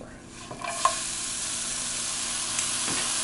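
Cheese and a sandwich sizzle steadily in a hot pan while being grilled and moved around, giving a constant frying hiss with a few soft scrapes near the start and no talking.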